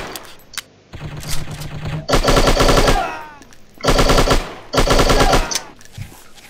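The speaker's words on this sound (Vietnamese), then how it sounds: "Có thằng bắn đằng sau." Rapid automatic gunfire in the Striker shooting game, loud bursts of machine-gun fire in several separate volleys with short pauses between.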